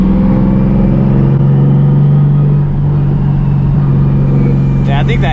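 A 900 hp Nissan 370Z Nismo pulling hard under boost, its engine a loud, steady, close droning roar filling the whole stretch with little change in pitch.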